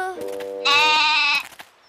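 A cartoon goat lets out a bright, quavering bleat, loud and close, following a shorter lower call, with the sound cutting off sharply after about a second.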